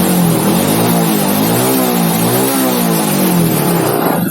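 A Honda Supra X motorcycle engine revved up once, the pitch rising and holding before easing back, loud and close with no talking.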